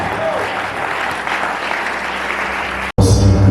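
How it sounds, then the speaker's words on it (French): Audience applause at a pastors' training-centre graduation ceremony, dense steady clapping from a crowd for about three seconds, then cut off abruptly and followed by a louder, different segment with a low hum. "Applaudissez très fort, s'il vous plaît"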